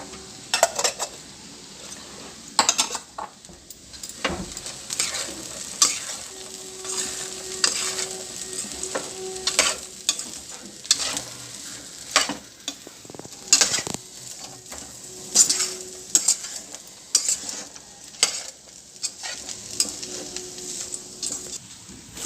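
Crispy corn mixture tossed with fresh coriander leaves, stirred in a pan with repeated scraping strokes and light sizzling, utensil clinks landing in an irregular rhythm, close and fairly clear with no voices.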